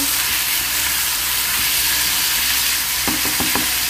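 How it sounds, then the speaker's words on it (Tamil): Onion and tomato sautéing in a pan for fish curry, a loud continuous hissing sizzle close up, with a quick run of stirring knocks near the end. "இந்த வெங்காயம் தக்காளி நல்லா மர்ஜ் ஆகணும். அந்தளவுக்கு நல்லா வதக்கணும்."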